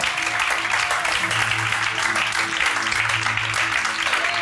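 An Ivorian church congregation applauds during a service, a dense, continuous wash of clapping that holds steady and loud throughout, with a faint murmur of voices beneath.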